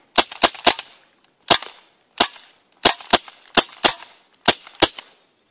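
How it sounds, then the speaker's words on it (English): An airsoft-style BB gun fires eleven sharp cracks in uneven bursts of two and three, with short gaps between them. The shots are close and dry and sound weak and thin, with no talking. "sounds like my BB gun's dying"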